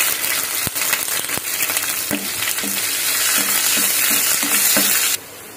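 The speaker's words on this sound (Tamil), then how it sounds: "எண்ணெய் நல்லா காஞ்சிச்சு. பச்சை மிளகா போட்டுக்கலாம்." Green chillies fry in hot oil, giving a steady close sizzle with a few sharp clicks and spatters and soft periodic stirring scrapes. No one speaks.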